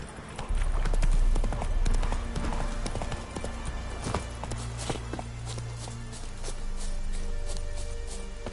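Roach the horse gallops in The Witcher 3, a fast, steady clip-clop of hooves close by, over low music and faint game ambience.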